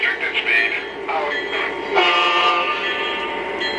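A model Union Pacific train sounds its whistle in sustained tones over a running locomotive's hum, close and moderately loud, alone without talk.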